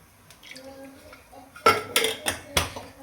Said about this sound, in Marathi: मी लगेच कढई ठेवली आणि त्याच्यामध्ये तेल टाकते.